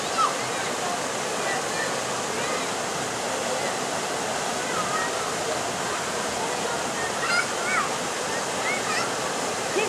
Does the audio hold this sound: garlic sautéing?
no